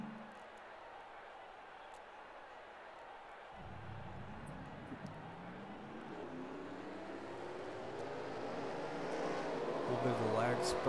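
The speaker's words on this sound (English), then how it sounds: "Drivers, start your engines." Race car engines start up and build in a NASCAR-style racing video game, a low rumble kicking in partway and rising steadily as several engines rev together, with a voice talking over it.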